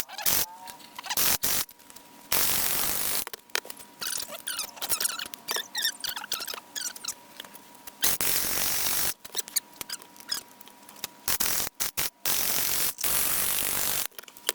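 A mini handheld sewing machine stitches a chain stitch along fabric for a memory pillow, giving bursts of rapid buzzing, whirring mechanical clatter that start and stop repeatedly, close and fairly loud.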